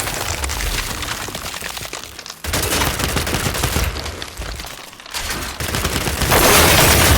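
Sustained bursts of heavy gunfire in the shooter Gears of War 5, loud and continuous with brief gaps between volleys and a harsher rush of noise at the end.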